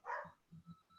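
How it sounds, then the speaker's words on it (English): Dogs barking in the background of a workshop session: one sharp bark, then a few quieter, muffled woofs in quick succession, faint and some distance away. "I apologize for the dogs in the background if you can hear that."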